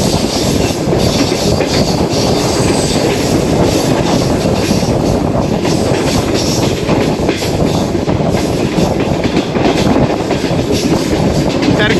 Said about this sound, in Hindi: ये आपको लग भी रहा होगा कि ट्रेन अब थोड़ा नीचे की तरफ जा रही है।